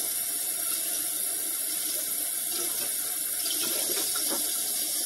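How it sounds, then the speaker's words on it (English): Water runs steadily from a kitchen tap as sponges are rinsed at the sink, a continuous close splashing hiss that holds throughout and swells slightly near the end. "I'm going to rinse my sponges."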